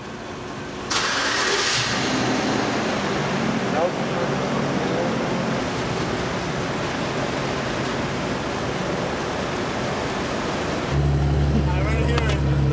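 Ferrari 812 with its V12 engine revving hard, a loud, sustained roar filling the scene with steady power, then dropping to a deep, low idle rumble near the end; voices are faintly present underneath.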